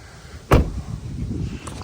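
An Acura RSX-S door lock actuates with one sharp mechanical clunk, close and fairly loud, followed by a low rumbling background hum and a faint later click.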